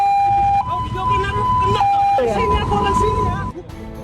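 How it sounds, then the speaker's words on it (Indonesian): An ambulance siren wails loudly and up close, its tone stepping between two pitches several times before it cuts off, with a voice speaking underneath. "pelaku mengaku tidak senang dengan suara sirine ambulans"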